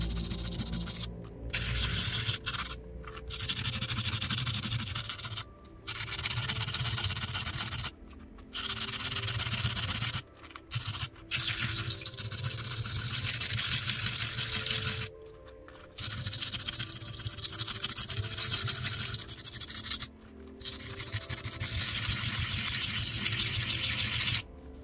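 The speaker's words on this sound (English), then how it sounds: "So now comes the sanding bath, and I'm doing the wet sanding." Wet sanding a hard-textured Jesmonite AC730 piece set with AC100 terrazzo chips, sandpaper rubbing back and forth in steady rhythmic strokes, close and continuous with brief pauses between passes.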